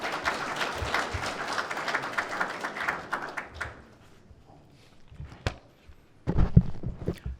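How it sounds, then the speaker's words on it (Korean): At a seminar, an audience applauds to welcome a speaker, a steady patter of claps that fades out after a few seconds. Scattered footsteps and thumps follow as someone moves toward the podium. "박수로 맞이해 주십시오"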